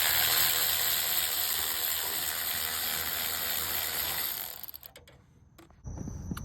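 A ratchet works loose a 12 mm alternator bolt on a 2008 Honda Civic, a dense run of rapid close clicking that stops, leaving a few faint ticks before a louder scrape or knock at the end.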